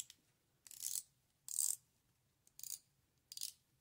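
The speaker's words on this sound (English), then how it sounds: "Everybody loves spinning the bezel." A loose watch bezel spun by hand gives four separate bursts of crisp ratcheting clicks with short quiet pauses between them, close and fairly soft.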